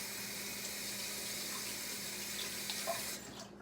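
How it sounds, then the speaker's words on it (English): A kitchen tap runs in a steady stream while a finger is rinsed beneath it, the splashing water loud and continuous until it cuts off near the end. "Let me rinse my finger off real quick."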